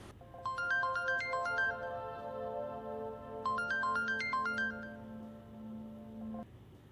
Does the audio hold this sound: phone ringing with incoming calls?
yes